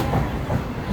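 A MEMU passenger train pulling out of Pocharam railway station, a low rumbling roll with faint wheel clatter heard from inside the coach, brief and steady.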